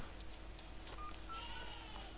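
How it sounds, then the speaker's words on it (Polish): A telephone is dialed in the video game Neighbours from Hell, giving a few short, faint tones against a quiet background with no talking. "Postaramy się ten telefon wziąć jak najszybciej, żeby móc zadzwonić."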